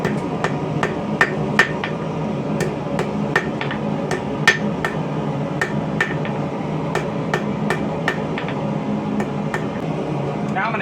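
Blacksmith hammer blows striking a hot metal bar end to taper it, sharp metallic ringing strikes in an irregular steady rhythm, about twenty over the stretch, close and loud over a constant background hum.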